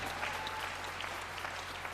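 A church congregation applauding in praise during a French-language worship service, dense steady clapping filling the room for the whole stretch, with no speech over it.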